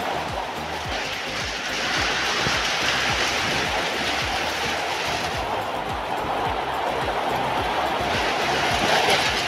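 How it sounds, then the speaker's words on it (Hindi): Rain falling steadily outdoors during a rainy tea break, a dense continuous hiss of drops with a constant, fairly loud level throughout and no voices. "बारिश गिर रहा है"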